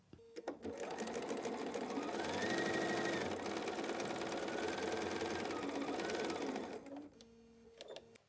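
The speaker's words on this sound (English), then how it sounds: "so I can start here and sew all the way down." A sewing machine stitches a quilt seam on a wall-hanging project in a steady, fast, close mechanical whir that runs for several seconds, then stops with a few clicks at the end.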